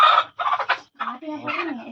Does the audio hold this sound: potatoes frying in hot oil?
no